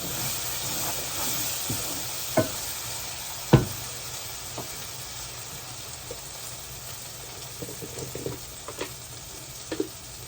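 Ivy gourd sautéing in oil, a soft continuous sizzle and hiss with scattered light stirring clicks and taps, fairly quiet and close, no one talking.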